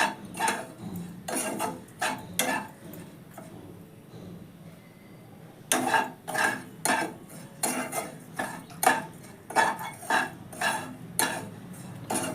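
Soya chunks frying and being stirred in a pan, with a spoon scraping the metal in repeated rhythmic strokes after a quieter pause, close and fairly loud, no talk.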